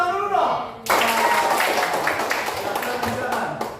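After a brief voice, a classroom group breaks into clapping, a dense, lively patter of many hands that runs steadily to the end.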